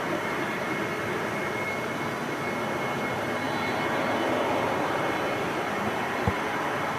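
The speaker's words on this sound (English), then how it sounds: "Embraer 190 heading back to Zurich." An Embraer 190 jet at Manchester Airport gives a steady, loud broadband roar that holds evenly throughout, with no voices heard.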